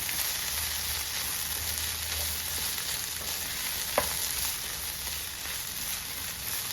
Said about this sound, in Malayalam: എല്ലാം എന്ത് വെന്ത് നല്ലതായിട്ടുണ്ട് നമുക്കൊന്ന് ഇളക്കി കൊടുക്കാം